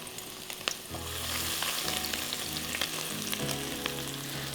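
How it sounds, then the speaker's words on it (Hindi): Crushed garlic sizzles and crackles steadily in a pan of hot oil, with continuous close frying spatter and a faint tonal hum from the stove. "थोड़ा सा कुटा हुआ लहसुन फ्राई होगा"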